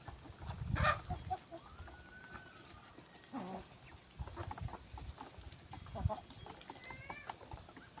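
Chickens cluck and call in a farmyard while ducks and chickens are fed, with scattered short clucks and a few louder bursts over steady rustling background.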